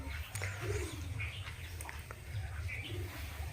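Soft, low pigeon coos repeat among other faint bird chirps over a steady background murmur, close by.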